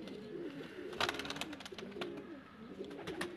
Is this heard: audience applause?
no